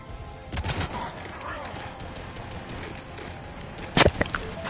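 Gunfire from Shepard's weapon in Mass Effect 3, a few sharp cracks and a louder burst near the end amid busy combat noise and muffled voices.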